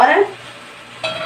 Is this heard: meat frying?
yes